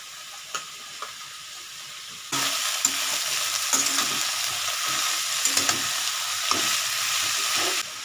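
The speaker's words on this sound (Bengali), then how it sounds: "এবার আমার বন্ধুরা দেখছো ভাজা হচ্ছে" Carrot and capsicum fry in a pan over raised gas heat. A quiet hiss swells into loud, steady sizzling, broken by occasional clicks of stirring.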